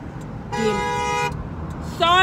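A car horn sounds two toots on a road, the first long and steady and the second starting at the end, over traffic noise, with voices talking nearby.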